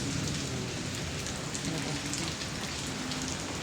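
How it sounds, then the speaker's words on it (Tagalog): Heavy rain falls during a storm, a dense, steady hiss of drops pounding surfaces throughout, close and constant with no talk. "Grabe ang ulan."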